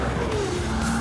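A Ferrari 296 GTB at speed on a race track, its engine a loud close whine with the pitch sliding and then climbing, while tyres hiss beneath it.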